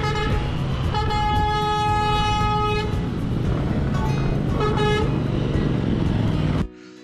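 A large tour bus blasts its horn at a car on the road, one long sustained honk followed by a shorter second one, loud over constant traffic and engine rumble before the sound cuts off.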